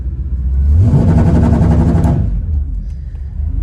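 An F-body car's engine revs and holds high on a transmission brake, a loud, steady mechanical roar that swells in, sustains for over a second, then drops back to a rumbling idle.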